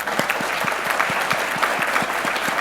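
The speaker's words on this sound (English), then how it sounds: "I think that demands a round of applause." An audience claps together in steady, even applause, fairly close and loud, with no talking over it.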